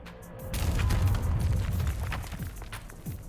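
A video game explosion, a deep booming rumble that swells after a brief lead-in and rolls on with debris-like crackle, slowly easing off.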